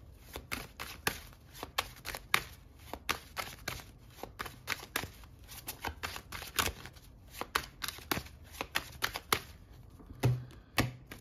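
Tarot cards are shuffled and slapped down one after another in irregular, sharp close-up snaps and riffles with no voice, over a faint steady hiss.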